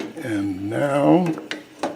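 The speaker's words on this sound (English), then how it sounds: "I'll put the lid on it." A lid goes onto a cooking pot of chicken thighs with lentils and mushrooms, giving a couple of brief metallic clinks near the end while someone talks over it.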